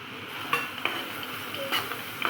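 Rusk soaked in milk is mixed with cardamom powder and fried almonds and cashews for double ka meetha, soft wet stirring with a few sharp clinks of a spoon against the vessel, close and quiet, no talking.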